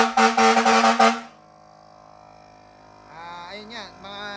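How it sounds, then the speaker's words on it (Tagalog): Fire-style air horn fitted to a Toyota Rush, one loud harsh pulsing blast for about a second, then a quieter sustained horn tone with a wavering whine as it fades. "sound check nga. Fire air horn."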